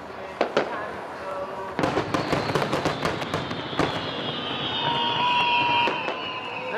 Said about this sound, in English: There we go, classic firework sound, finally.